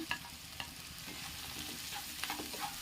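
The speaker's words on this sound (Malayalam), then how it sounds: "ഞാൻ ചെറിയ രണ്ട് സവാള ചേർക്കുന്നുണ്ട് ഇതിലേക്ക് അപ്പം നമുക്ക് നല്ലതുപോലെ ഒന്ന് വഴറ്റി കൊടുക്കാം" Onions sizzle steadily in a hot pan as they are sautéed for a country chicken curry, with a few light stirring scrapes and taps over the constant close frying hiss.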